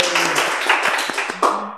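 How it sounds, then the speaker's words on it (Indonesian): Podcast studio applause, a brief patter of hand claps with light tapping, close and moderately loud, over a low background hum. "Tepuk tangan teman-teman."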